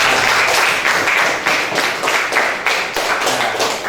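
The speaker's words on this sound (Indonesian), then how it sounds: "berikan aplaus yang meriah" A classroom audience breaks into steady, loud applause, many hands clapping together in a dense, sustained wash that pulses slightly for several seconds, close and with no talking over it.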